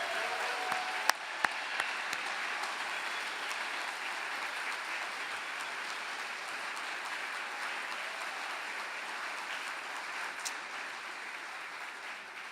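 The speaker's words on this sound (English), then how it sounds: "how about one more round of applause for all of tonight's honorees" Steady applause from a large audience at an awards ceremony, a dense even patter of clapping that holds throughout with no voices over it.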